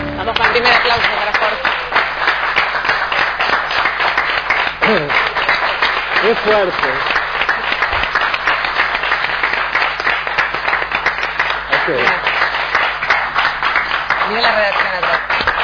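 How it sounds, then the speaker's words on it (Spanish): Loud, sustained applause from a studio crowd bidding farewell to news anchor Jorge Jacobson, continuous clapping throughout with voices speaking over it. "Vamos con el primer aplauso para"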